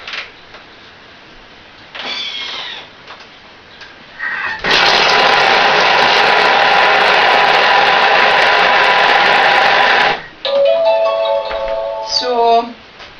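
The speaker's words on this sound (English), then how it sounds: "chop it through a little bit for a few seconds" A food processor chops peppers and garlic for a vegan three-bean chili, a loud steady motor whir running for about five seconds, with quieter clattering and handling sounds before and after it.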